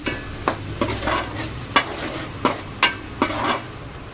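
Tomato paste being stirred into sizzling oil in a pan for fish curry, a spoon scraping in a series of sharp, close strokes over a steady frying hiss, with no talking.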